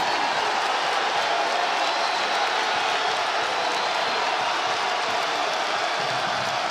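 Basketball arena crowd in an NCAA game between Pittsburgh and Iowa, roaring after a three-pointer, a broad continuous wash of cheering that holds at a steady level throughout with no clear talk.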